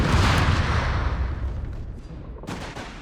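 A white phosphorus artillery barrage in Company of Heroes 3 opens with a loud, rumbling blast. It fades into crackling, overlapping bursts, and a sharp detonation lands near the end.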